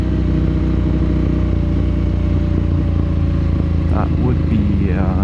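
A Yamaha MT-09 motorcycle fitted with a bigger rear sprocket rides through city streets, its engine a loud, steady drone throughout, with a rider talking over it.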